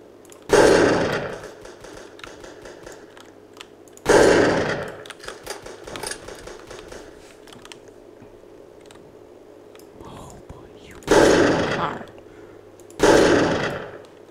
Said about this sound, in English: Oh, he's shooting at me.